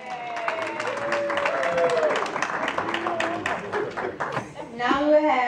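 An audience claps through a children's Easter program at a Baptist church, with steady clapping and crowd noise under cheering voices and speech.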